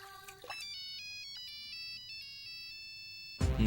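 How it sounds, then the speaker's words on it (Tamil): A mobile phone ringtone chimes alone in a home for a few seconds, a bright repeating melodic pattern that cuts off into a louder rustling handling noise at the end. "போன் பெல் அடிக்குது."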